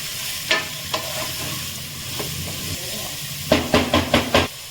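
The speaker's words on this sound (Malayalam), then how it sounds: "എല്ലാം നല്ല പോലെ ഒന്ന് വഴറ്റി കൊടുക്കുക." Onions and tomatoes sauté in a pan for chicken gravy, with a steady low sizzle and a few scraping stirs early on, then a quick burst of five sharp spoon scrapes near the end.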